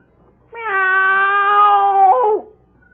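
A person imitates a cat's meow, giving one long, drawn-out, clear call that rises and then drops at the end, close and alone.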